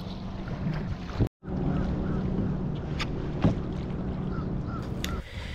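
Kayak paddling on calm water in a no-wake zone near Destin, Florida, with a steady wash of water and wind against the microphone, occasional soft paddle splashes and one brief dropout.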